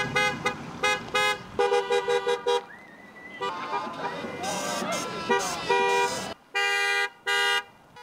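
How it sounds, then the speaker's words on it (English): Hundreds of cars roll past a house in a send-off parade, horns tooting in repeated short and long honks, some overlapping, with engine rumble and cheering between blasts. "Hundreds, and I mean hundreds of cars made their way past the Demarais household to give Max a big show of support"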